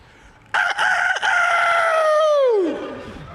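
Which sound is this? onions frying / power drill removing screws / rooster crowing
rooster crowing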